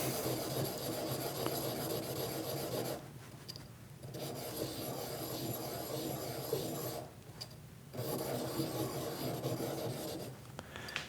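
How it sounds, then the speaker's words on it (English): Steel washer rubbed back and forth on an oiled sharpening stone, a steady close raspy scraping in repeated strokes broken by brief pauses between them. "take one of these washers and dress it on the stone"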